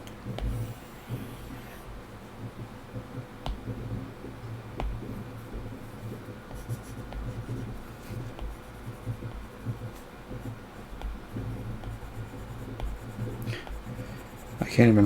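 Apple Pencil tapping and scratching across an iPad Pro glass screen while sketching in Evernote 10.0, a steady stream of faint, close strokes over a low background hum.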